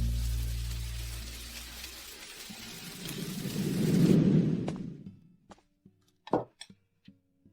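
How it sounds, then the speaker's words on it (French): Heavy rain pours with a deep swelling rumble of thunder, then stops abruptly, leaving near quiet broken by a few soft clicks and taps. "La pluie est plus forte."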